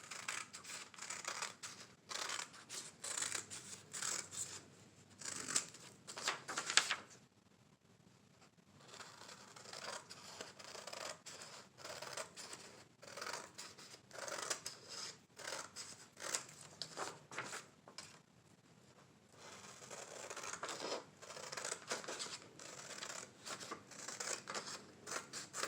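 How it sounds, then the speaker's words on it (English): Scissors trim craft material for a Dollar Tree gingerbread man Christmas sign, with repeated close snips in quick bursts separated by brief pauses. "And then you just trim it down."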